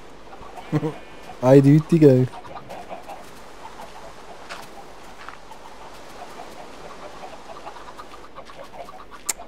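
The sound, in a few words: chickens clucking in the video game Minecraft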